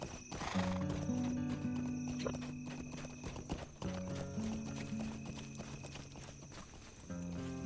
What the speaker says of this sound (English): The horses have been set free from the orc pen.